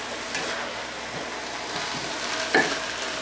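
Tofu mixture for a tofu kale stir fry sizzles steadily in a fry pan while being stirred, a constant crackling hiss with a brief utensil clatter near the end.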